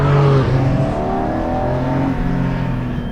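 A Porsche Cayman GT4 with PDK gearbox and naturally aspirated engine accelerates hard on a road, a loud, close engine rising and sustaining in pitch through the revs.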